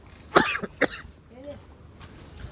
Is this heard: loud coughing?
yes